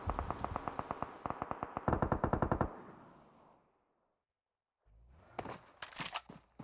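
Automatic gunfire rattles in rapid bursts in PUBG Mobile, loud and close, then cuts to near silence before a few sharper single shots and clatters return.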